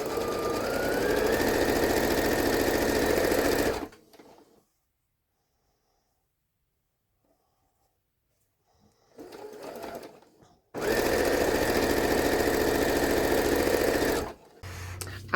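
A home sewing machine chain-pieces fabric squares for a patchwork draft stopper, running in steady, loud bursts of rapid mechanical stitching separated by a long pause and a short stretch of quieter handling.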